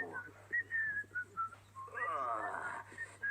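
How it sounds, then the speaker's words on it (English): A melodic whistled tune in short phrases, then a longer warbling passage, fairly close and clear, with faint voice-like sounds underneath. "whistling has disturbed him. What's that horrible noise? It's disgustingly musical."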